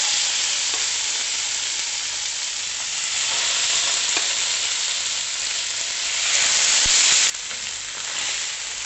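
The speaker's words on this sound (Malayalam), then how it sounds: "അപ്പോൾ ബാക്കിയുള്ള മീനും കൂടി നമുക്കൊന്ന് ഫ്രൈ ചെയ്തെടുക്കാം." Fish frying in oil in a pan, a steady loud sizzle and hiss that swells slightly toward the end, with no talking.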